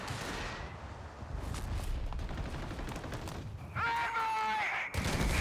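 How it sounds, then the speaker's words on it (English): Artillery fire in a Company of Heroes 3 battle on the L'Aquila map thumps and rumbles in a dense, continuous barrage, followed by a shrill whistling shell near the end. "Some artillery up here from the captain."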